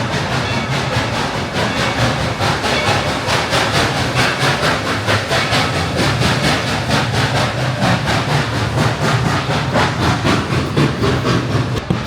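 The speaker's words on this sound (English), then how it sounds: "Here comes the train." A theme park steam train at Dollywood rumbles past up close, loud and steady, with rhythmic clickety-clack beats repeating throughout and a chuffing engine texture.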